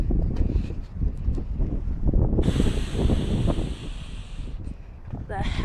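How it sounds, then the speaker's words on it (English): Strong wind buffets the microphone on a windy outdoor day, a constant loud rumbling gust with a brief hiss partway through and faint rattles. "The wind isn't helping either because it's opening and closing by itself."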